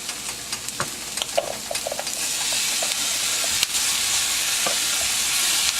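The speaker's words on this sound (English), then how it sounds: "I'm going to let that saute in a little bit." Cut-up pork sautéing in a pan with caramelized vegetables, a loud continuous hiss and sizzle that swells after a few scattered pops and clicks, close by with no talk.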